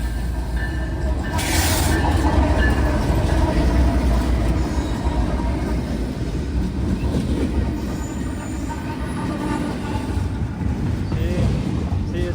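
A freight train passing at Elkhart rumbles loudly and steadily, with wheels squealing and faint rhythmic clatter on the rails, close by and alone without talk.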